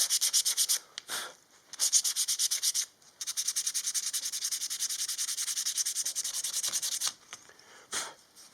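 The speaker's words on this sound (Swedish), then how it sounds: "nu är det putsat en gång med nummer 120" A wooden knife handle is sanded with 120-grit sandpaper in fast, steady back-and-forth rasping strokes, close and loud, broken by a few short pauses.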